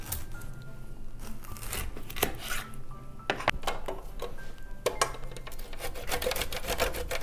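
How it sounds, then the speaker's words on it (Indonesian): A whole pineapple, core included, is grated by hand on a grater, giving steady rasping, scraping strokes close up with a few sharper knocks in between. "Jadi, ini diparutnya ikut dengan tongkolnya, semuanya diparut bersamaan."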